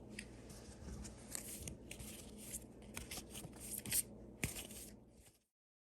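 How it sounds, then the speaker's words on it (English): Quick riffling and soft slapping of tarot cards being shuffled close by, a burst of papery flicks and taps before it cuts to silence. "Let me shuffle really quickly."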